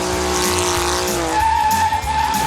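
A car doing a burnout on a city street, its engine roaring loud and steady under a high, sustained squeal of tires that sharpens partway through.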